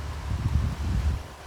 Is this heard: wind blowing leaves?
yes